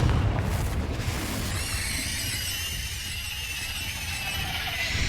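In the Hogwarts Legacy video game, a Confringo spell explodes with a deep, loud boom, then trails into a shrill, squealing whoosh and a rumbling tail that lasts several seconds.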